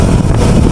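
Loud wind buffeting the microphone during a ride on the Laguna loop, a constant roaring rush as if moving quickly through open air.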